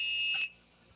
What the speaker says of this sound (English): Oh, there was the low warning on the solar power